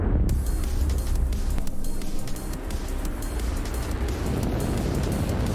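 Loud, sustained rumbling roar of a SpaceX Falcon 9 rocket lifting off on the Starlink 4-19 mission, a dense broadband crackling thunder that holds steady throughout with no voices.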